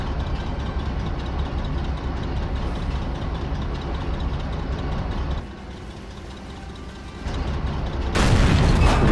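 Tank cannon fire and explosions in the World of Tanks video game, including a Dicker Max, KV-1S and S-35 CA, heard as continuous loud low rumbling and engine drone with a sharp burst near the end.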